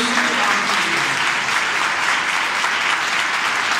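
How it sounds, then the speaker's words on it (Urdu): A church congregation during a sermon claps loudly and continuously, a thick, even wash of applause filling the room without pause. "اگر آپ کو فیل ہوتا ہے ایسا تو زوردار تالیاں خدا کی."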